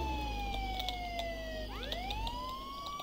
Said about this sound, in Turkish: Sadece şunun bir sirenini kapay.